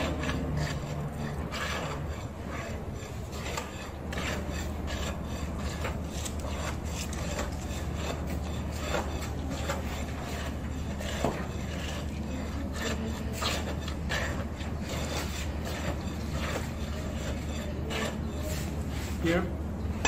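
A tamping rod works a freshly mixed concrete layer in rapid, repeated scraping and rubbing strokes under a constant low hum, close and fairly loud throughout.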